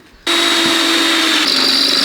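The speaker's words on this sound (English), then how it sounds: "My drill bit going blunt because it's taken a while." A power drill with a blunting bit whines loudly and steadily close by, starting suddenly after a quiet moment, its pitch shifting slightly as it bores through metal.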